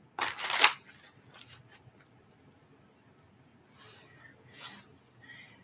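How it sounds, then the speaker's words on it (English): Tarot cards riffled in a single loud burst near the start, followed by softer, scattered shuffling rustles and card taps in a quiet room. "Okay, last shuffle."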